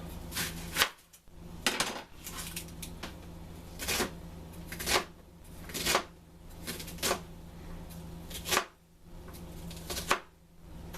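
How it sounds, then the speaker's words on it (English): Knife chopping an onion on a cutting board for turkey and shiitake vegetable soup, a quiet series of crisp, evenly spaced taps close by. "I'm going to cut an onion."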